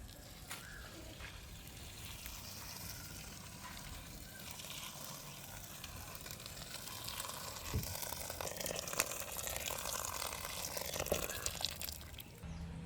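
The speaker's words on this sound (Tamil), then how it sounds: "நல்ல சுடுதண்ணியும் சேர்த்துக்கொள்வோம்." Hot water is poured into a cooking pot with a soft, continuous splashing and trickling that swells slightly partway through, accompanied by faint kitchen clatter and no speech.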